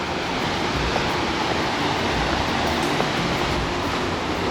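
Waterfall at Netarhat heard from a bridge built over the falls: a steady, dense roar of rushing water that fills the whole scene at close range with no letup and no voices.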